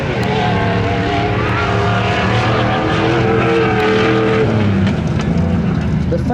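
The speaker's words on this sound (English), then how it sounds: "There are a lot of cars racing here today." Ultra4 Limited Class off-road race cars roar steadily and loudly at a Shamokin, Pennsylvania race, engines droning continuously with rising and falling tones throughout.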